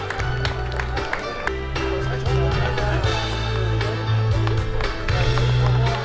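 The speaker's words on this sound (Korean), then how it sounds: "많은 박수 부탁드리겠습니다." Spectators at a gateball tournament award ceremony clap steadily in a rolling wave of applause, sharp hand claps layered over a constant low hum and crowd murmur, holding fairly even throughout.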